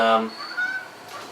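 A single loud honk followed by softer, nasal calls from geese, close by and brief.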